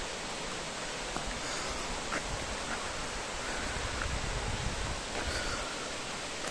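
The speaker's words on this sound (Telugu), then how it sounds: "మీకు వాటర్ శబ్దం వినిపిస్తుంది అనుకుంటాను." A forest stream near Talakona waterfall rushes in a dense, steady roar, continuous and fairly loud with no break.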